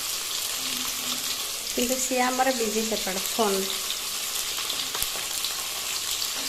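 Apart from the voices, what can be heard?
fish frying in oil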